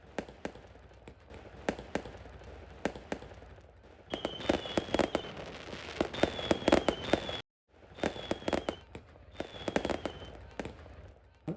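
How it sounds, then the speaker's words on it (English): Fireworks explode over Niagara Falls: sharp crackling pops scattered at first, then a busier stretch of bangs with whistling rockets streaking upward, all heard from some distance outdoors. "oh, there's the fireworks"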